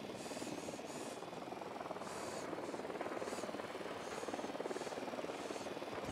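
A helicopter in the Ghost Recon Wildlands video game drones with a steady rotor beat, faint and continuous, while distant game sounds sit underneath.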